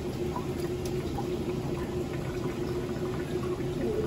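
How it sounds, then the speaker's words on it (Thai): Boiling water poured off freshly cooked gyoza in a home kitchen, a steady rushing, bubbling liquid sound that holds at an even level from start to finish with no voices. "พอมันดึงดึงดึงดึงดึงคู่มือเราก็เอาไปเทน้ำออก เทน้ำออก"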